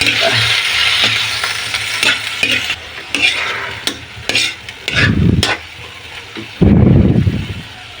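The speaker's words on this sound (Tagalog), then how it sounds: "Haluin lang natin mga idol hanggang sa lumambot." Malabar spinach stirred and frying in a pan, close and loud, with a continuous sizzle and repeated scraping strokes of the utensil, including a few heavier stirring bursts, and no talking.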